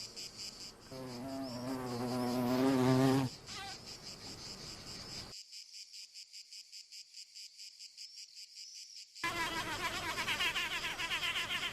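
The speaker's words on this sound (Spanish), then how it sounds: "El sonido que emite la avispa al trabajar lo producen los músculos de sus alas." Mud wasp vibrating its wing muscles to work mud while building its nest, giving a rising harmonic buzz, then a break, then sustained pulsing buzzes, close and clear with no talk.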